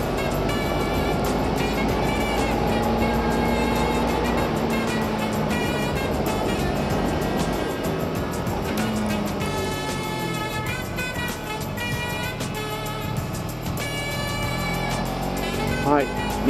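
The engine of a 2017 Suzuki GSX250R motorcycle drones steadily while riding, its pitch shifting with the pace under continuous wind rush, while someone talks over it throughout.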